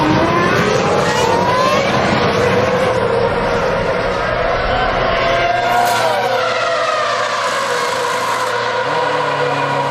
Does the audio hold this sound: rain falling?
no